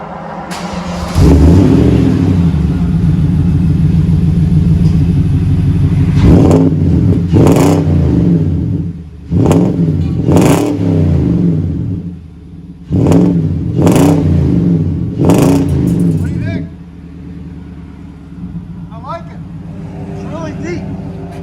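A deep Nissan Titan 5.6L V8 truck exhaust starts and idles with a low rumble, then revs repeatedly in sharp bursts before settling back to idle.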